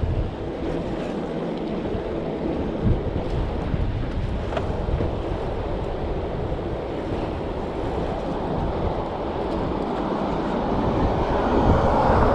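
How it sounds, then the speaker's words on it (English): Strong wind blows up a hill near Rochdale, roaring and buffeting the microphone in a continuous rumbling rush that builds slightly toward the end, with no talking. "that's a strong wind now, that's blowing up this hill"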